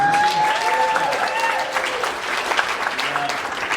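Audience at a stand-up comedy show applauding, a steady close wash of clapping with scattered cheers running throughout.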